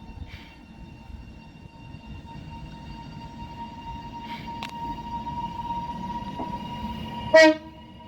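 TransPennine Express class 397 electric train at Oxenholme on the West Coast Main Line, pulling away from the platform with a steady low rumble and faint tonal whine, then a brief loud horn toot near the end.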